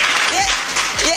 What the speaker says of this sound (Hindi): तालियां हो जाए एक बार अच्छे से।